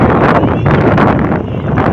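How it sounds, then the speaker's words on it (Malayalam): Strong sea wind near a lighthouse on the coast buffets loudly and continuously, a harsh rushing roar with gusty surges, with a voice faintly under it. "നല്ല കാറ്റുണ്ട് കേട്ടോ"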